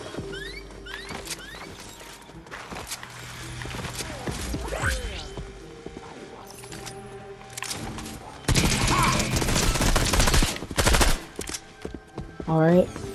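Video game gunfire, bursts of rapid automatic shots mixed with game sound effects, growing louder and denser toward the end.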